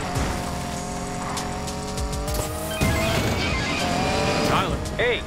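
A car drives in Need For Speed Payback with engine revving and tires squealing through turns, rising and falling squeals over a steady motor, joined by game music and voices.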